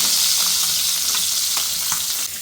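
Koi fish frying in a pan for a home-cooked curry, a steady close sizzle with faint crackles and brief stir clatters throughout, no voices.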